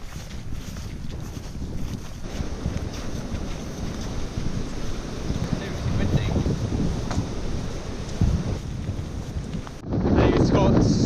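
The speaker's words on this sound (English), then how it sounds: "It's got so windy" Strong gusting wind roars steadily and buffets the microphone outdoors among trees beside a motorway, swelling in bursts and growing louder toward the end.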